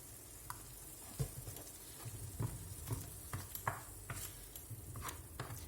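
Cream stirred into a sizzling pan over lowered heat gives a steady soft crackle under scattered clinks and scrapes of stirring, close and fairly quiet with no talk.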